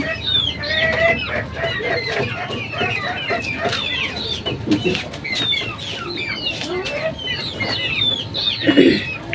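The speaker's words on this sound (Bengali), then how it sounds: "এই যে ফাউমি মুরগি রাখছে এত সুন্দর বাচ্চাগুলো একদম সুস্থ আছে" A flock of Fayoumi chickens clucks and chatters continuously nearby, with overlapping calls from many birds and one louder squawk near the end.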